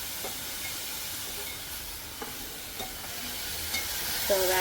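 Onions frying in a pan with salt give a steady, dense hiss and sizzle, with soft scrapes and occasional light clinks of stirring throughout, close and continuous with no talking.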